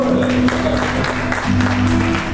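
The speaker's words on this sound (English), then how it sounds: "Give on that hand clap." A church congregation claps hands during a worship service, a short steady burst of clapping with organ or keyboard tones sustained underneath.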